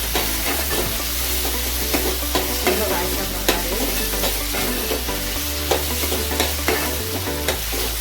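Onion, tomato and coriander frying in a pan for a prawn and cashew dish, a loud continuous sizzle with repeated scraping stirs and clinks close by, without talking.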